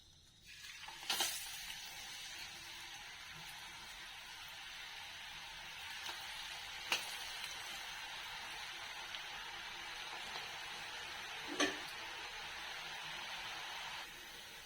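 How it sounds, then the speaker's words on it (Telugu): Murukulu fry in hot oil in a pan on a stove, giving a steady, even sizzling hiss that runs throughout, broken by a few faint sharp pops or clinks. "ఈ విధంగా నేను మురుకులు కాల్చుకుంటున్నానండి"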